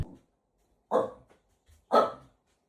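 A dog barks twice, close and loud, with a short pause between the two sharp barks in an otherwise quiet room.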